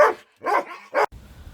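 A dog gives three loud, close barks in quick succession, with short silent gaps between them and quiet room sound afterward.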